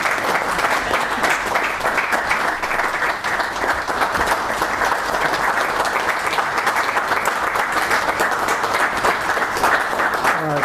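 A large audience claps continuously and evenly for over ten seconds as a deputy minister walks up at a high school quiz competition ceremony in Zimbabwe, a sustained wash of hands with no break.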